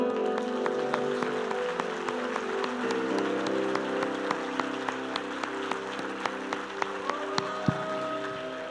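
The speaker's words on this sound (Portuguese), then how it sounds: "Aplausos" A church congregation claps together in sustained applause, a dense patter of hands filling the room for several seconds over a faint steady background hum.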